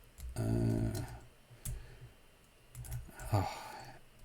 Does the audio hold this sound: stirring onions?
no